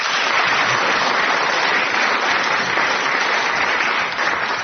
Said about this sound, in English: gets a book token and a round of applause